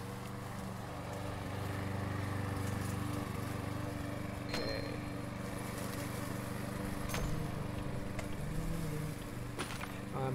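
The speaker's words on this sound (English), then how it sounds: "I'm mowing the grass." A lawn mower cuts grass in the House Builder game, a faint, steady engine drone with tonal hum held throughout, marked by a few soft clicks and dings.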